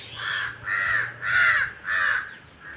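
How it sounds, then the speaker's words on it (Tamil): Crow cawing nearby, with monkeys around, four loud harsh caws in an even rhythm, each about half a second long, close and clear over a faint low hum. "காக்காவும் பக்கத்துலேயே உட்காந்துட்டுருக்கு."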